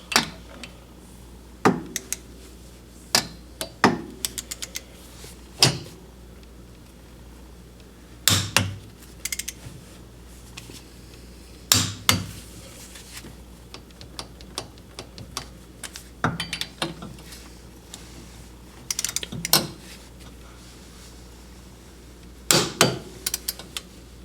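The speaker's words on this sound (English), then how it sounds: "Torque wrench is set to 27 foot-pounds." Torque wrench tightening flywheel bolts on a Yamaha YXZ 1000R, with sharp metallic clicks and clacks in scattered clusters over a quiet workshop background, close by.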